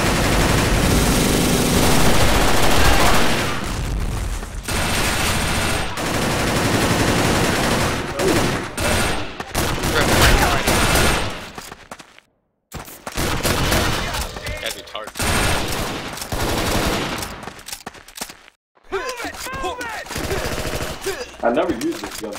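Rapid gunfire from a video game, dense bursts of automatic shots filling most of the clip, loud and close, with brief pauses and some game sound mixed in.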